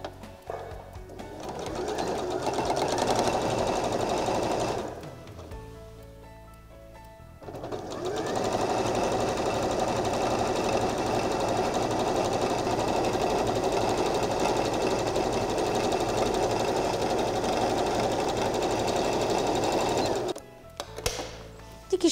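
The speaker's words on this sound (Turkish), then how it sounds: "Daha sonra diğer parçamı dikiyorum." An electric sewing machine stitches folded fabric pieces at a half-centimetre seam, running in a long steady buzzing whir that pauses briefly and then resumes for an extended run before stopping.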